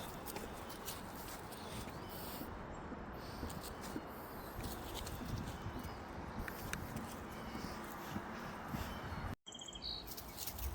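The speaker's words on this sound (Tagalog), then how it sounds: "Ang daming ibon." Many birds chirp and call outdoors in upstate New York, a dense steady chorus of small tweets spread across the scene, with faint background activity and no talking.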